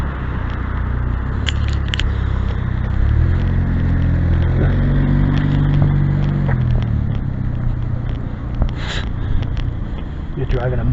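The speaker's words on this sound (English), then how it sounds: "Here's muffler on that vehicle there. That could use some work" A passing vehicle with a loud, worn-out muffler, recorded in Canada, gives a deep, rough engine rumble that swells to a peak around the middle and then fades, heard close and loud over steady street noise.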